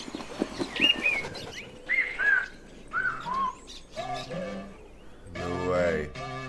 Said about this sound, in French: L'oiseau commence à chanter, c'est juste fou.